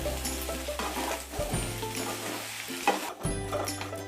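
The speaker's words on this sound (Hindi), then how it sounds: "अब इसमें कटे हुए टमाटर ऐड कर देते हैं। सबको अच्छी तरह मिक्स कर लेंगे।" Chopped tomatoes are stirred into potato and eggplant in a hot pan, a spice-free dish, with steady sizzling and several scraping, shuffling stirs close by.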